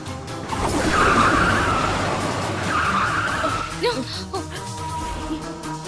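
A car skids and brakes hard to a stop on a road, with a loud tire squeal swelling and fading over a few seconds, followed by faint voices.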